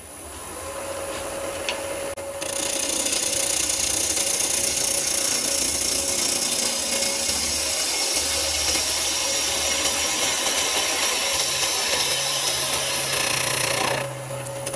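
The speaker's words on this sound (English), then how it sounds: "rounding it off with a spindle roughing gouge, which I've reprofiled on the Sorby Pro Edge" Spindle roughing gouge cutting a wooden bowl spinning on a lathe, a steady close scraping hiss with a faint motor hum underneath that starts abruptly and cuts off near the end.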